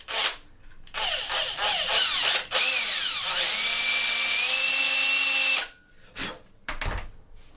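A handheld drill opens up a hole in a 3D-printed plastic katana sheath: a few short revving bursts, then one long steady whine of several seconds, close and loud, ending with brief clicks and handling noise.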